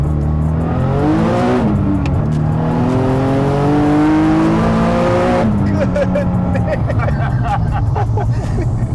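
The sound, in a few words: Nissan 370z street car accelerating on a ride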